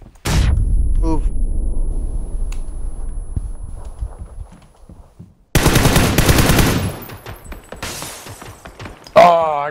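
Gunfire in a video game shooter: a loud opening shot, scattered shots in the quieter middle, then dense rapid automatic fire close by, with voices talking briefly amid the shooting.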